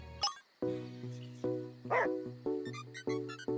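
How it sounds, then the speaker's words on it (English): A dog in the video game Murder Is Game Over gives a series of short barks and yips, close and clear, repeated in a quick uneven rhythm over a quiet background. "Get the dog away, bro."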